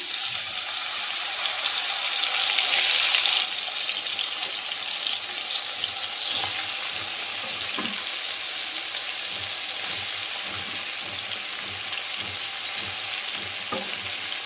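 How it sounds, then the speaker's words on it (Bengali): Oil left over from frying small fish crackles with a nigella seed tempering as vegetables are added, making a loud, dense sizzle that eases slightly after a few seconds and runs on with faint stirring knocks; no speech. "এই তেলের মধ্যে একটু কালো জিরে ফোড়ন দিয়ে দিলাম। এবার একে একে সবজিগুলো দিয়ে দেবো।"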